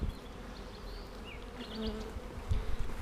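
Bees hum in a steady, droning buzz close to the microphone, with a few brief higher whines drifting past and soft handling thumps near the end.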